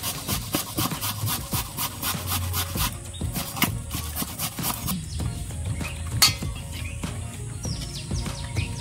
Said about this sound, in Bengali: আর আলুটাও আমি এইভাবে ঘষে নেব।